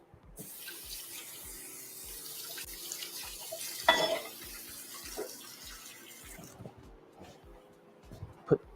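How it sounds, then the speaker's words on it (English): Dishes rinsed under a running kitchen tap while a meal of lemon chicken and vegetables is cleaned up; steady water flow with clinks and splashes, some louder knocks near the middle and end, no one talking. "Rinse this off."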